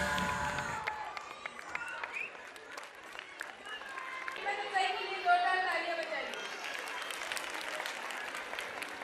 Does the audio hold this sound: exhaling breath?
no